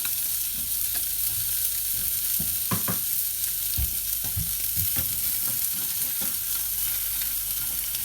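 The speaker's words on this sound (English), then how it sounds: "I need to get the onions out because they're gonna start burning." Onions frying in a pan on the stove for a beef burger, a loud constant sizzle with occasional scraping knocks from stirring, close and with no voices.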